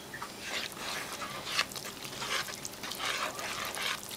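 Hot tap water mixed with oil poured into dry vegan bread ingredients: a soft continuous splashing trickle with gentle gurgles, close and moderately quiet, alone without talk.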